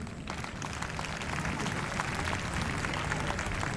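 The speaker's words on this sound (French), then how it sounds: "Encore bravo, qu'on l'applaudisse." Sustained applause from an audience honouring a government minister at a summary ceremony for the 8th Francophonie Games in Abidjan 2017, dense and steady throughout, filling the whole stretch without pause.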